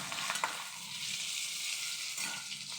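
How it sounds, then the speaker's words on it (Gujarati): Glue berries (gunda) sauté in a pan for sambharo, a continuous soft sizzle and crackle heard close up with a few light stirring scrapes. No voices are present. "જો હજી સેજ સાતળવાના છે, 2 મિનિટ જ સાતળવાના છે"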